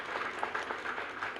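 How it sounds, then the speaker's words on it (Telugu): Crowd applause at a Brahmin welfare assembly, a sustained wash of many hands clapping at an even level for the whole stretch, with no voices. "వాడు నిద్ర లేవాలంటే ఒకసారి గట్టిగా చప్పట్లు కొట్టి"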